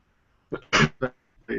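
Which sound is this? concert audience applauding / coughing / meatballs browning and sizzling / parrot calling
coughing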